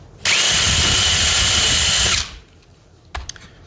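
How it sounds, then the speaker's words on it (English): A power drill spins up at high RPM to bore a hole in an aircraft fuselage, a loud steady whine lasting about two seconds that winds down, followed by a brief clatter close by. "I'm going to go ahead and drill a hole. Nice high RPM. I let the drill bit do the cutting."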